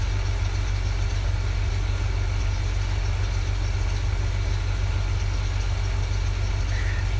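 Tractor engine in a Farming Simulator game, a steady low droning rumble that holds loud and unchanged throughout, with no other sounds.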